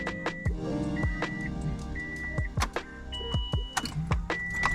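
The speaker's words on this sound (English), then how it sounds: "Prime that fuel pump a couple times." A Subaru WRX STI fuel pump primes a couple of times, giving short electric whirring bursts mixed with sharp clicks and clunks, close and fairly loud, with no talking.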